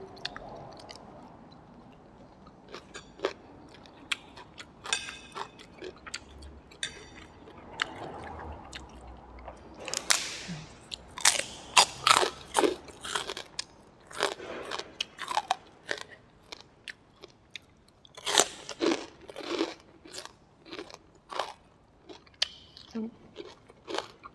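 Close, wet chewing and crunchy bites of large grilled catfish with sticky rice and a spicy pounded bean salad with fermented fish, irregular and intermittent over about twenty-four seconds, growing busier and louder in the second half.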